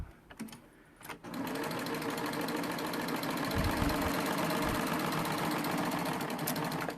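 Serger sewing machine stitching along a folded fabric edge, running steadily and close for most of the stretch after a brief start, with a dense mechanical whir and rapid stitching chatter.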